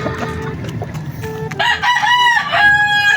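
Backyard chickens feeding, with a rooster crowing loudly and close by over steady clucking, its harmonic calls rising and repeating in the second half.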